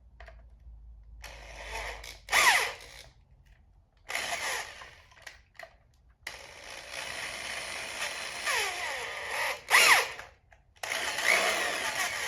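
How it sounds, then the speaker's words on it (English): A power drill whines in several short bursts, grinding through the aluminum crankcase of a 1990 Harley-Davidson Sportster 883, with brief pauses between runs and quiet gaps of near silence. "No better feeling, right, than drilling right through your crankcase."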